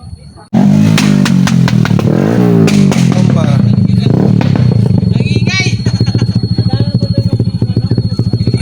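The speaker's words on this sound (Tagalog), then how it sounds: "Galupit na mga motor dito." Big bike motorcycles roar close by at a roadside tourist spot, a loud engine starting abruptly and revving up, then settling into a throbbing, pulsing idle while a voice speaks over it.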